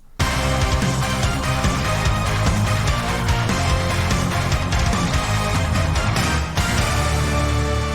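Dense, loud heavy metal instrumental passage with distorted guitars and driving drums, continuous throughout with no vocals.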